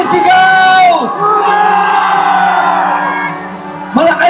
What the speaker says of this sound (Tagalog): pakinggan niyo ang sigaw ng sambayanang Pilipino. Sabay-sabay, sumisigaw!